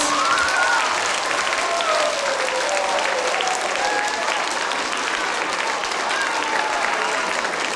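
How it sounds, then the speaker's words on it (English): A school audience gives a big, continuous round of applause for second graders after their performance, steady dense clapping filling the whole stretch with faint voices mixed in. "Ladies and gentlemen, can we give our second graders another huge round of applause?"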